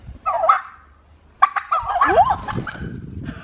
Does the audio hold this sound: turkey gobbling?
yes